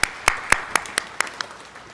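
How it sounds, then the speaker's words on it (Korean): A church congregation at a Sunday worship service claps for about two seconds, a slow, steady series of seven or eight distinct hand claps, loud at first and fading toward the end, with no talk. "박수를 올려드리겠습니다."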